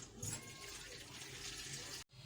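Two and a half glasses of water pour into a cooking pot for beef shami kabab, already holding ginger-garlic paste and spices, a steady close splashing rush that stops abruptly near the end.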